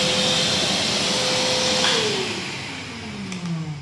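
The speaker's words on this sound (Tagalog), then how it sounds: "kinaya niya yung vacuum cleaner natin na 1200 watts" A 1200-watt vacuum cleaner powered by a Bluetti AC50B portable power station runs with a loud, steady whine, then winds down as its motor pitch drops near the end.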